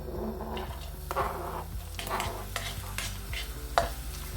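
Chopped onion frying in olive oil in a pan, with a steady sizzle and repeated spoon stirring and scraping strokes, close and moderately loud, no talking.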